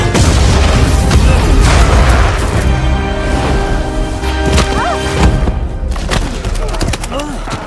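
Powerful explosions from a monster film, the giant Anaconda Titan being blown apart, booming continuously and loud with deep rumbling and debris crackle throughout, overlaid with a dramatic film score.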